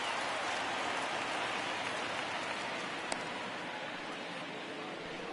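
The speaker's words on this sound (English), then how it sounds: "we've mentioned the conditions aren't ideal with the rain coming down" Rain falling during a baseball game, a constant broadband hiss that holds steady throughout, with a faint sharp tick partway through.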